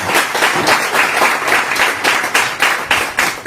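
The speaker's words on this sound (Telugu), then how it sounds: "గట్టి చప్పట్లు కొట్టి దేవుని నామాన్ని." A church congregation claps loudly together in dense, rhythmic applause, with sharp swells of massed hand claps filling the room.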